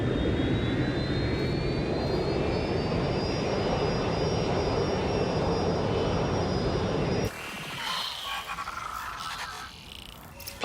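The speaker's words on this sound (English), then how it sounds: "Luckily, you can reroute the plane." A rerouted passenger jet in the game Watch Dogs Legion drones steadily with a rising engine whine for about seven seconds, then cuts to quieter ambient sound with faint scattered noises.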